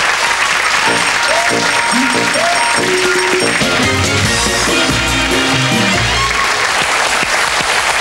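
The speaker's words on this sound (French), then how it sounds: "on peut vous applaudir" Studio audience applauding on a French television set, a dense wash of clapping under music with tonal notes, steady and loud for the whole stretch.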